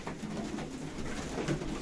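Pigeons coo steadily in a loft, a soft continuous murmur of overlapping low calls that fades in and out, fairly quiet and close, with no talking.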